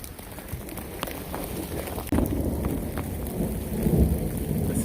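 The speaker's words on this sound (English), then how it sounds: "Lots of lightning, lots of thunder" Thunder rumbles low and continuous through steady hail and rain on the Pacific Crest Trail, with a sharp crack of nearer thunder partway through and the storm roaring on loudly with no talking.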